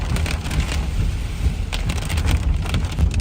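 Rain falls steadily during a drive through the hilly Blue Mountains in Australia, heard from inside a moving car as a dense, loud hiss with low road and wind rumble.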